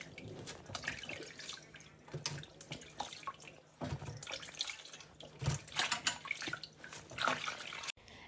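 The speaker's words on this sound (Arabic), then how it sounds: "جيت نغسل السلطه" Tap water runs steadily into a sink while salad is washed, with splashing and dripping that rises and falls as the leaves are handled, fairly close and moderately loud.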